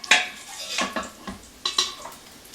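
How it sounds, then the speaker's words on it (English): A slotted spoon clinks against the inside of an Instant Pot while bacon is fished out of a jalapeño popper chicken soup, giving a few sharp metallic taps and scrapes spaced over a couple of seconds, close up with no talking. "I've got my slotted spoon so I can just fish out my bacon."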